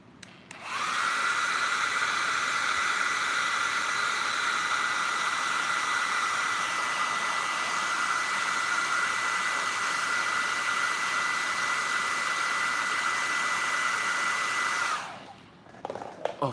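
A hot air dryer heating the head of a custom action figure: a loud, steady motor whine and rushing airflow switch on, run evenly for about fourteen seconds close to the microphone, then cut off.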